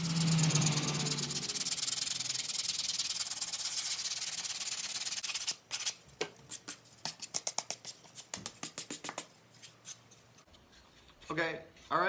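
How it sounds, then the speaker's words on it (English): Sandpaper scraping across a styrofoam Halloween tombstone prop, starting as a dense continuous hiss, then breaking into short rhythmic strokes, close and clear, with some speech. "I'm going to sand it, try to remove some of these black lines a little bit before we paint"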